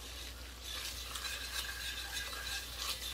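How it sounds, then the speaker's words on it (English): Food being stirred in a pot during dinner cooking for a ham and broccoli mac and cheese bake, continuous soft scraping and gentle sizzling under a low hum, close and steady with no voices. "Just keep stirring it up."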